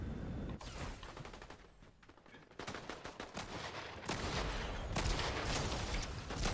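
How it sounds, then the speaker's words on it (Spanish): Dense bursts of automatic gunfire from a first-person shooter match with Dr. Doom, rapid crackling volleys filling the whole stretch, loud and continuous with brief gaps, growing heavier toward the end. "hay disparos aquí, un poquito más para adelante."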